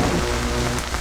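A Storm Dragon spell in the video game Jade Empire unleashes a dense, steady storm wash like heavy rain pouring on a surface, loud and continuous with no voices.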